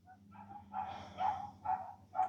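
Dogs barking nearby outdoors, a few short moderately loud barks in quick succession over a quiet background.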